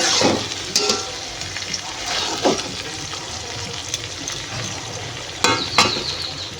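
Poppy seed paste is stirred into a pointed gourd curry in a pan, then water is added: soft scraping and sloshing with a few sharp sizzling bursts, close and fairly loud, with no talk.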